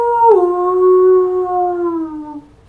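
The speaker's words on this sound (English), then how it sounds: "Insert lightning flash and werewolf howls here." A single long, loud wolf-like howl rises briefly and then holds a steady mournful pitch before fading out, used as a Halloween werewolf howl effect, heard alone.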